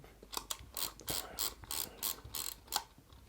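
A Mamiya Six folding film camera is wound on with about eight crisp clicking ratchet strokes in a rapid, close, uneven rhythm, with small mechanical clicks between them and no talking.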